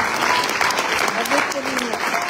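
Audience applause at a conference on European ecological power, clapping from the room with voices talking over it throughout.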